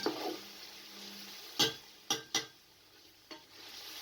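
Quiet cooking of chicken and potatoes for pulao in a pot with a low background hiss, broken by four sharp scraping stirs against the pan, three close together.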